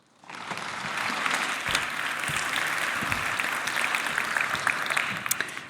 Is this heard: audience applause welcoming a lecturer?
yes